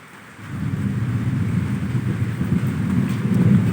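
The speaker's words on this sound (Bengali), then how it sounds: "দেখো, আষাঢ় শ্রাবণের মতো বৃষ্টি" Steady rain falls with a deep rolling rumble of thunder, building from quiet to a loud, continuous low roar that persists to the end, with no voices.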